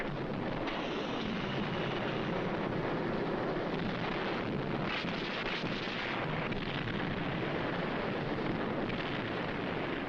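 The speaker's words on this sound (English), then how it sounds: "Battleship, cruiser, and destroyer guns pound the enemy's defenses." Battleship, cruiser and destroyer naval guns fire in a shore bombardment, a dense continuous rumble of heavy booms and blasts rolling together without pause.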